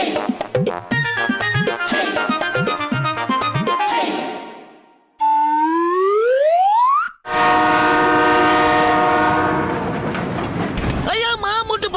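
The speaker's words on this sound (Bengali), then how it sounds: "মোটু, তোমার ট্রেন তো চলে গেল" A cartoon train rushes by amid busy comic music, with a rising whistle-like glide followed by a long, steady horn blast and more lively scoring after it.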